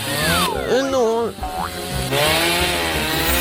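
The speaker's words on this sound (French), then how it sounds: "Alors, je vais prendre la scie." A chainsaw cuts through waffles in a kitchen cooking challenge, a loud steady buzzing drone that runs the whole time, with voices and cartoonish sliding sound effects over it.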